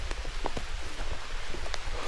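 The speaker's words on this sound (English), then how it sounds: "the rain really starts to" Rain falls on a woodland trail along the Bloodroot Trail at Salamonie Reservoir in Indiana, a dense, steady patter with scattered closer drips and soft ticks, no talking.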